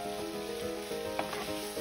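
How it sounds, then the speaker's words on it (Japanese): Chicken breast and vegetables stir-fried together in a pan, a close, continuous sizzle with rhythmic scraping and tossing strokes throughout the short stretch. "全体的に和えるようにして炒めていきます。"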